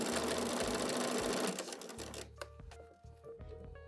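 A sewing machine stitches a zipper into a bag, first a loud steady motor whir, then short stop-start runs of stitching with clicks and pauses, close up and with no voice.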